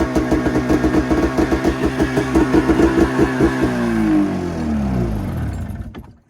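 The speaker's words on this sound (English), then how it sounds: "then it starts taking off at real high idle" An Arctic Cat Mountain Cat snowmobile engine runs at a high idle, close and loud, with a fast steady pulsing throb that smooths into a drone before cutting out at the end.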